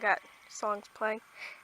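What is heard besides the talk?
None of the usual background noises is heard.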